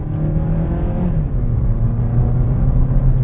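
A 2018 Mazda 3 hatchback with a 2.0-litre non-turbo engine accelerating, a steady engine drone heard from inside the car with its pitch climbing as the revs rise, loud and continuous with no talking.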